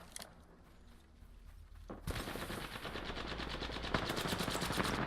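Gunfire in Apex Legends: after a quieter opening, rapid automatic fire starts suddenly and keeps going as a loud, dense stream of shots.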